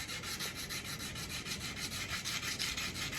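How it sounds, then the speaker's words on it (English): A steel lock spring is rubbed back and forth by hand on a 400 grit sanding belt wrapped around a piece of 2x4, making a rhythmic, quiet, close-up rasping scrape with even strokes. "It's a 400 grit belt for my belt sander. It's just around a piece of 2x4."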